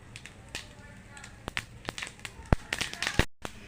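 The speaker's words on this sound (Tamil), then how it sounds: "கறிவேப்பிலை கடுகெல்லாம் போட்டு பொரிஞ்சிடுச்சு" Mustard seeds and curry leaves splutter in hot oil while tempering thuthuvalai chutney, giving scattered sharp pops and crackles at an irregular pace, fairly faint overall.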